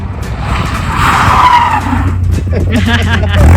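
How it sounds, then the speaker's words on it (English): A Nissan 240SX with a rebuilt KA24E engine does a burnout, with loud tire screech and engine roar swelling midway, while people talk over it nearby. "You got a 40-foot burnout"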